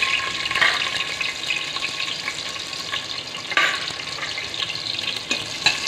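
Onion, cinnamon, cloves and cardamom frying in hot oil, a steady close sizzle with occasional stirring scrapes, no voices.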